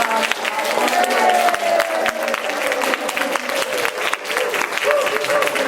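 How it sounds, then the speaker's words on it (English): A crowd at a peace-culture gathering claps, sharp individual hand claps scattered over a lively backdrop of voices and a sustained tone, moderately loud and fairly close. "Yes, definitely give her a big round of applause."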